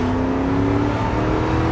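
Cars speed along a highway at around 80, a loud continuous engine drone and tyre roar with a steady whine, as traffic rushes past nearby.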